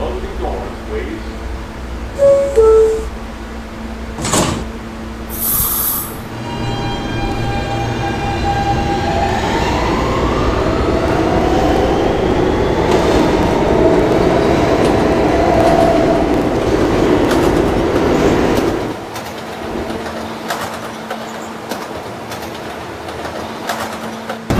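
A Kawasaki R160 Siemens E train on a New York subway line runs loudly along the rails with a steady rumble and rising motor whine, then quiets as it slows; an automated announcement voice speaks near the start.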